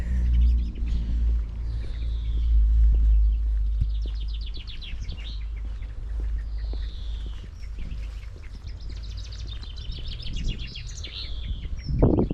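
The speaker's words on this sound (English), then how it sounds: "Birds are singing away" Several birds sing and chirp in bright, overlapping phrases in the town of Coldstream on a sunny afternoon, over a low steady rumble of wind or distant traffic, with a brief louder thump near the end.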